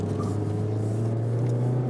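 Mazda MX-5 Miata facelift driving on a mountain road, its engine held at high revs in a steady, close droning whine for a brief moment, with no talking.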